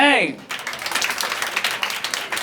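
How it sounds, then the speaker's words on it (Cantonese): After a brief electronic tone, an audience at a school singing competition breaks into sustained, dense clapping and applause to welcome a contestant to the stage. "我哋俾啲掌聲有請"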